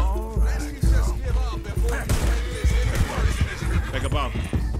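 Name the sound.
horse neighing in Red Dead Redemption 2 video game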